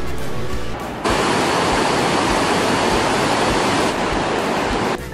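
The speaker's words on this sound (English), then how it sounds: "At the base of the falls, the water becomes the rapids of the Iguazu River Canyon." Iguazu Falls in Argentina roars as a dense, loud, steady rush of falling water that cuts in abruptly, holds for several seconds, then drops back.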